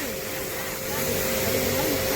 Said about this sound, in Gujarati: પ્રેશર ગન ચાલુ થઈ ગઈ